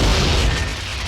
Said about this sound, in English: And if we throw a grenade